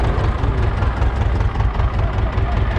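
A tractor engine idles with a steady, heavy low rumble, loud and close, unchanging throughout.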